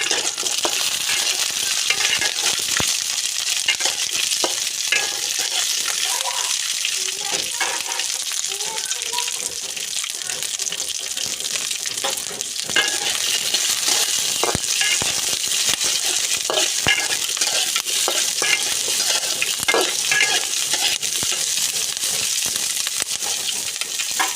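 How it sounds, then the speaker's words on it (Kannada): Chilies fry in hot oil with a continuous bright crackle and sizzle that holds steady for the whole stretch, spattering pops scattered throughout. "ಈಗ ಮೆಣಸಿನ್ಕಾಯಿ ಹುರ್ಕೊಳತ್ತೀನಿ ರೀ."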